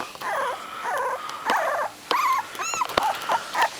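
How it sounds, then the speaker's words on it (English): A dog among three-week-old puppies makes a string of short growls and whimpery grumbles, close and clear with brief pauses between bursts. "There's a beautiful dog."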